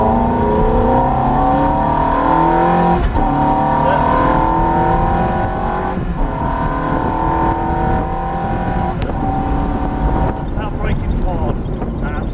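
A Ferrari F430 sports car engine roars loudly and steadily, its pitch climbing through repeated gear changes as it accelerates hard, with wind noise throughout.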